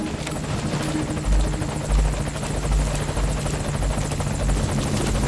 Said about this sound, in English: Boss, get Paz onto the helicopter